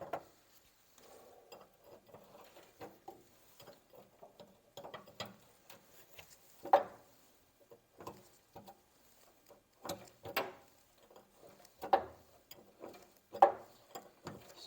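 A ratchet wrench works a rusted fastener that has been heated with a MIG welder. Irregular bursts of sharp ratcheting clicks come close and clear, with a few louder strokes toward the end and quiet pauses between them.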